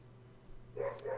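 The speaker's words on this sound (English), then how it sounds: "Oh, you got your dog barking there too." A dog barks a few times in short yips, fairly faint and in the background over a low steady hum.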